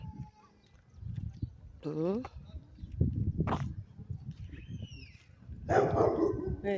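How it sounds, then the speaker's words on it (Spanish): Small dog barking at a house in a residential street, a couple of short yelping barks near the start amid ambient street noise, with a person talking over it. "Otro perro. Otro perrito tiene en esta casa."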